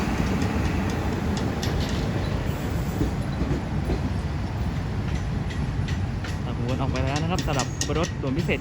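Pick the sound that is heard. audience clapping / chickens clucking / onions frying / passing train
passing train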